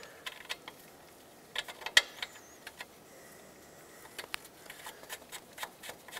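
A hand ratchet tightens the mounting nuts on the front lower control arm bushings of a 1996-2002 Toyota 4Runner. It makes bursts of close, crisp clicking with brief pauses between strokes and one sharp metallic knock partway through.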